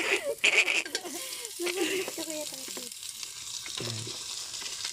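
Meat browns in a hot pan for Bicolano-style adobado, giving a bright frying hiss under a voice talking nearby.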